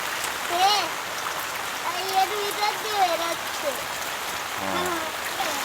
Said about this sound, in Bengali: খালি বৃষ্টি হচ্ছে খালি বৃষ্টি হচ্ছে